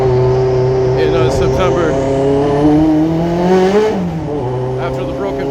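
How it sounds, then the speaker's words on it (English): A freshly rebuilt car engine revs with a steady rising and falling drone, crackles and pops audible in the exhaust, loud and close inside the car, with someone talking over it. "there's a little bit more crackling, pops and bangs. This is the first time this engine has seen some RPM"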